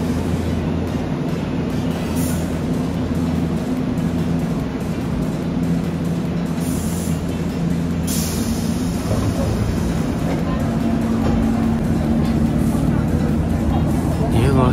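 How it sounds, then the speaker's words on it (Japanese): A Keihan Railway local train heading toward Neyagawashi station, heard from inside as a continuous loud rolling rumble with steady low hum, faint squeals and brief high tones, with a voice talking over it. "ようやく次の各駅停車がやってきました。"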